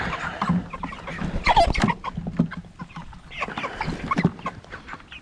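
Chickens in a chicken tractor cluck and call near a waterer, with busy overlapping clucks and squawks throughout and no talk.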